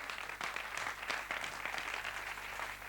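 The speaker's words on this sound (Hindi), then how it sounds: "अञा ज़ोरदार ताड़ियूं" Crowd applause at a Sindhi bhajan devotional music event, steady dense clapping sustained throughout with no break.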